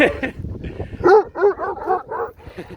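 A dog gives a quick series of short yips and whimpering barks, close by, with some faint voices at the start.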